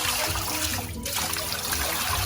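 Cold water pours over cooked puso, rice wrapped and hung in woven leaves, at a mountain picnic on Samal Island; a steady close trickle and splash runs throughout, with a brief lull near the middle.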